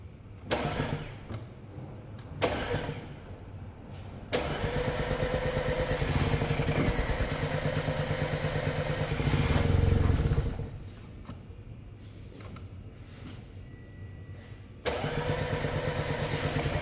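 An Audi A5 TFSI with a suspected timing chain fault cranks in several short bursts, then catches and runs roughly with a loud, uneven mid-pitched engine note before cutting out and restarting.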